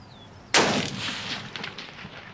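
A single sharp rifle shot from a factory-load .243 fired at a long-range 800-yard steel target, loud and close with a sudden crack followed by a long rolling echo that fades over two seconds.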